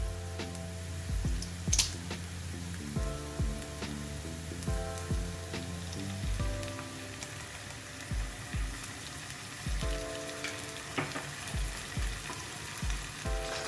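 Ginger garlic paste sizzles in a pan with softened onions, a steady gentle frying hiss broken by repeated soft knocks of a spoon stirring, fairly quiet and with no speech.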